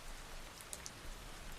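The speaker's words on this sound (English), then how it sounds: "just the soothing rhythm of the rain" Steady rain falls on a surface in an even, soft wash of drops, constant and fairly quiet with no voices.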